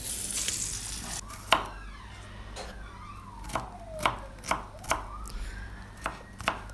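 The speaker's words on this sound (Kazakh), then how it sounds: "Салып болғаннан кейін сарымсағымызды майдалап тураймыз." A knife chops garlic finely on a cutting board for an eggplant salad, sharp close taps coming in an irregular run of about ten, with faint kitchen sizzle between them.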